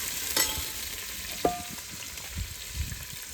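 Onion frying in a hot pot over an outdoor cooking fire, a steady sizzle with a couple of sharp clinks and occasional stirring scrapes, close and moderately loud.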